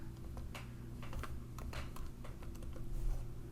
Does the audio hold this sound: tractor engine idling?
no